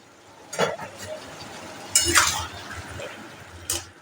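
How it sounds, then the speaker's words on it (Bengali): A lid set onto a pot of vegetarian Malabar spinach curry, three short clanking metal contacts spaced about a second and a half apart over a faint kitchen background. "এবার এটাকে আবার ঢাকনা দিয়ে ঢেকে দেব"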